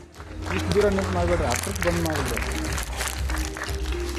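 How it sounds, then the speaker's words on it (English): Audience applause at an education award ceremony, with clapping rising and continuing under a speaker's voice as people talk over it. "Let's give a huge round of applause."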